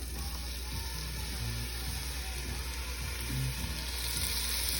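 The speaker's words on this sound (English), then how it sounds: "I'm gonna add a smidgen of olive oil. And in here, I'm going to add an onion diced." Diced onion fries in a little olive oil in a pan for Thai red curry noodle soup, giving a constant loud sizzle with faint low knocks beneath.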